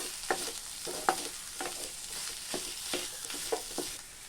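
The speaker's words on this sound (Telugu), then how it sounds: "ఇందులో చిటికెడు పసుపు, అర టీ స్పూను కారం పొడి బాగా కలిసేటట్టుగా మిక్స్ చేసుకోవాలి" Stuffing mixed with a pinch of turmeric and chili powder in a pan, with soft sizzling under a spoon that taps and scrapes at an uneven pace, quiet and close, with no talk.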